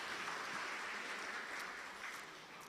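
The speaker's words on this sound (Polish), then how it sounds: "Bardzo proszę o oklaski." A conference audience of students applauds steadily, a dense, even wash of many hands clapping at moderate distance without pause or voices.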